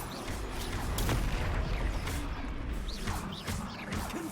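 Spell combat in the video game Hogwarts Legacy, with an Expelliarmus disarming spell cast amid a dense, continuous barrage of magical blasts, cracks and impacts, loud and busy throughout with repeated sharp hits.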